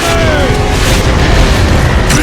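A mortar shell explodes in the Gears of War: Judgment video game, a loud, close, rumbling blast that fills the entire moment with heavy booming noise.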